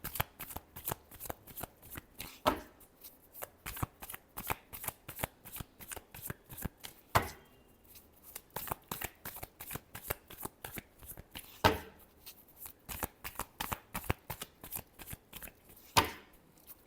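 Tarot cards are shuffled close up in a rapid, steady run of crisp flicks and slaps, with a few louder snaps spaced through it and no talking.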